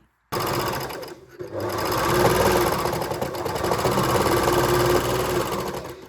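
A serger overlocker hems jersey fabric along the waistband seam of a draped top, whirring loudly and steadily at close range, with a brief dip in speed near the start before running on continuously.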